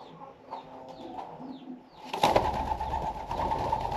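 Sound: pigeons cooing

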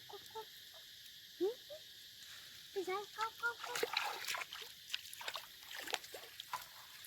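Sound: frogs croaking during evening frog catching

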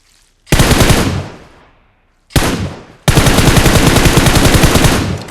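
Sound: video game gunfire

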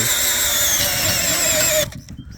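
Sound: small cordless screwdriver drilling wood with large wood drill bit

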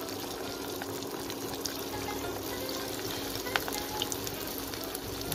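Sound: beef shami kabab patties dropped into hot oil, frying

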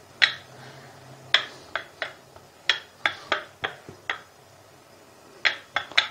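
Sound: rolling pin clattering while rolling paratha

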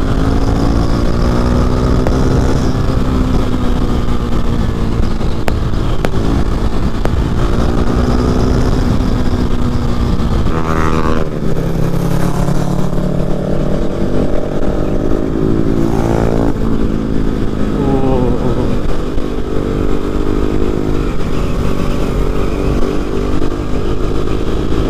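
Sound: motorcycle riding on a hill road

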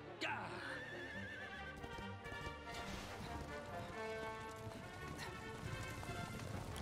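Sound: horse neighing in Dragon Quest XI video game

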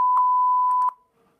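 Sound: sensor beep from the video game Five Nights at Spy's

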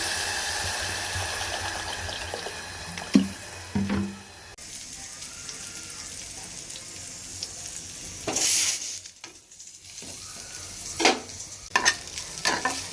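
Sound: cooking khichuri of arhar dal and rice, frying

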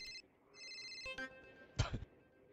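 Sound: phone ringing in GTA roleplay video game

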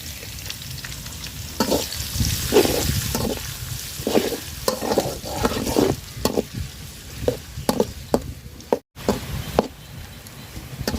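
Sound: chopped onions frying in oil

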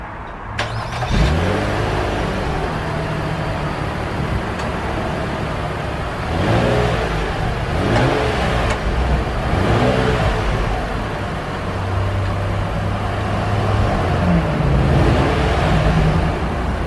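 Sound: 2019 Infiniti QX60 engine revving, exhaust note

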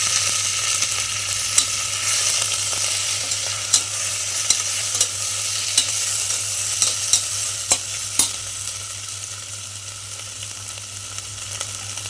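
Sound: tomatoes added to fried onions, sizzling

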